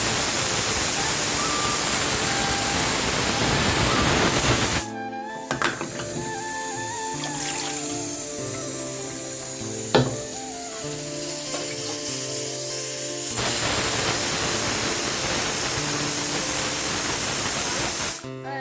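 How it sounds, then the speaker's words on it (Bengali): Duck meat curry simmers in a pan with a loud, steady sizzling hiss that eases for several seconds in the middle, then returns at full strength. "তো সিম করে করে দিয়ে দিয়ে কষাই করব।"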